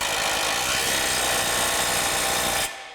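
A Milwaukee M12 subcompact impact wrench (3049-20) hammers on bolts, a loud, close, continuous rattling buzz lasting over two seconds before cutting off abruptly, with no talk.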